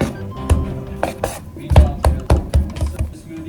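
A knife chops through rolled-out, risen bread dough for pampushky on a kitchen board, with about eight quick, sharp, close strikes in an uneven rhythm.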